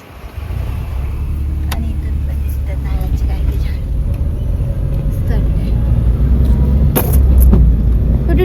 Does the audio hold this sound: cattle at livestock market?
no